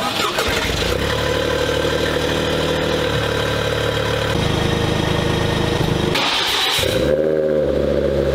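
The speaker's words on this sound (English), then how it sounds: "I'll start the car up" A Toyota Yaris GR4 engine cranks and catches, then settles into a steady idle, loud and close with a brief burst of revving as it starts.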